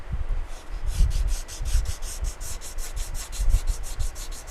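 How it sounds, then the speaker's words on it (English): Sandpaper rubbed by hand across a car's sheet metal quarter panel during repair, a close, rhythmic scratchy swish with strokes roughly every quarter second. "And use a finer sandpaper."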